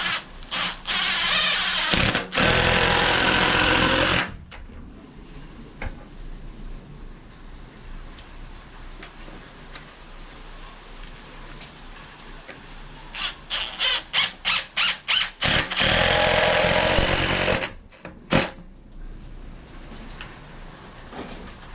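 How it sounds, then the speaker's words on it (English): An impact driver drives screws into pocket holes in loud, rough bursts of rapid hammering. Two longer runs are separated by a quieter stretch, with a series of short trigger pulses just before the second run. "say the impact driver for this part makes installation smooth as butter"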